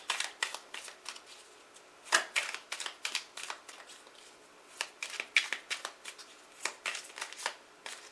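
Oracle cards being shuffled by hand, a steady run of crisp riffling flicks and slaps with brief pauses between bursts, close and fairly quiet, no voices.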